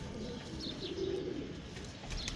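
Female pigeon cooing close by, a soft low warbling coo over a busy backdrop of other bird chirps and rustling, with no talk.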